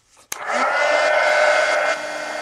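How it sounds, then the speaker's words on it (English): A heat gun blows steadily for about two seconds, drying a mixed media coloring page; a sharp click starts it and the loud whirring airflow drops a little near the end. "now let me take a heat gun to it and dry this"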